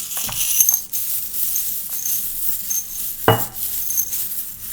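Small metal charms drop and clink into a little pot: a few sharp, bright metallic chinks with quiet rattling between them.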